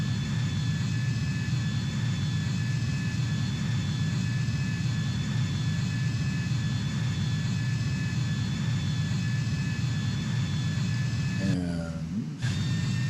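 Aircraft engine at raised thrust during a climb in a flight simulation, a steady, loud jet roar with a constant whine that holds throughout, with a brief shifting sound near the end.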